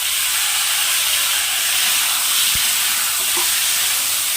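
Fennel seeds, potato, carrot and beetroot fry in a pan with a steady, even hiss and sizzle throughout, no voices, and a faint clink near the middle.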